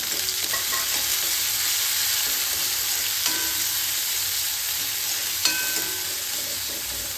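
Onions, garlic and green chillies sizzle steadily in a hot pan, a constant frying hiss with a few soft clinks of stirring.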